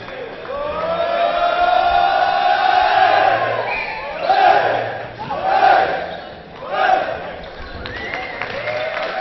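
A crowd at a Sweden versus France Euros 2014 men's match cheers and roars, with swelling shouts rising in waves over a constant din, loud and close.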